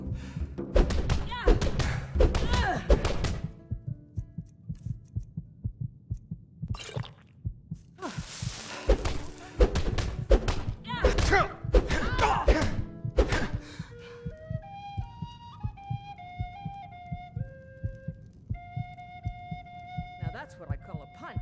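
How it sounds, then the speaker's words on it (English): Punches landing in a Skyrim fistfight: a run of heavy close thuds and thumps in quick clusters with grunts and voices, then a lull followed by chiming interface tones. "Now that's what I call a punch."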